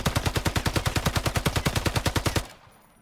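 UMP45 submachine gun firing a full-auto burst in the battle royale game Islands of Nyne, a steady rapid string of about twenty loud close shots ending abruptly with a short fading tail.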